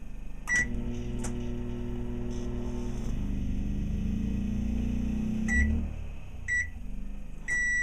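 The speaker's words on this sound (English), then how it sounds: "the generator is set to econo mode, and we'll try the microwave" A microwave oven running on generator power in economy mode beeps, then hums steadily for several seconds before stopping, followed by a few more short beeps against a low electrical hum.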